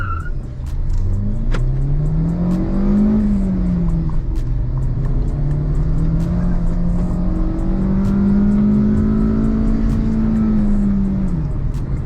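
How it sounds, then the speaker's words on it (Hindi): Hyundai Venue with a 1.2 litre Kappa petrol engine, air conditioning on, revving steadily up to about 5000 rpm and holding a rising, droning whine for several seconds, loud and close with no talk. "एसी यहाँ पर ऑन है, करते हैं 5000 आरपीएम तक रेव"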